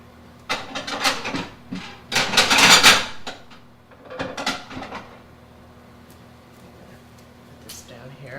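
Dishes and a plate clatter as a kitchen cupboard opens and shut, several bursts of knocking and rattling up close, with a steady background hum.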